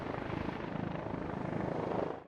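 A helicopter drones steadily overhead at an ancient fort, a constant whirring rotor noise that holds evenly before cutting off abruptly at the end.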